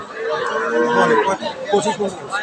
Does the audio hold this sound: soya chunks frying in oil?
no